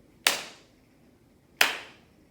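Two sharp, even hand claps a little over a second apart ring out in a quiet room, each with a short fading tail, counting out a simple classroom rhythm.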